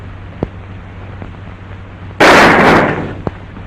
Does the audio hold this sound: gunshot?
yes